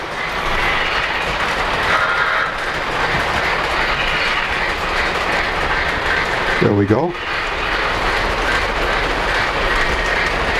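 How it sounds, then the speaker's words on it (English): A Polar Express model railroad passenger train rolls along a lower-level track with a steady clickety-clack rumble and a brief squeal midway, while a voice speaks briefly. "Here comes the Polar Express passenger train on the lower level on track number 2"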